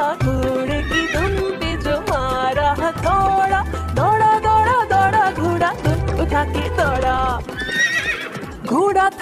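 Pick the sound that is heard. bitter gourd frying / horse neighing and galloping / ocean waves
horse neighing and galloping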